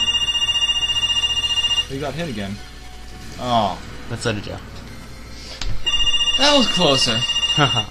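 A telephone rings in the room with a repeated electronic bell, loud in two bursts at the start and end while people talk excitedly over a video game between the rings.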